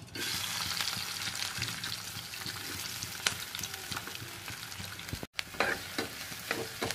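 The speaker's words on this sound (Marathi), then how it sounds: "त्यात थोडंसं तेल टाकून कांदा परतून घ्यावा." Onion frying in a little oil in a pan, a continuous crackling sizzle with occasional stirring scrapes and pops, close-up and moderately quiet, with a brief cutoff near the end.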